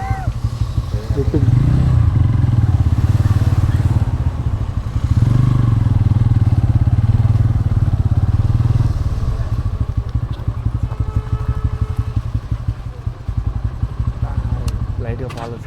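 A motorcycle ridden on the road from Hyderabad to Srisailam gives a steady, loud engine rumble with wind buffeting, while riders' voices talk over it throughout.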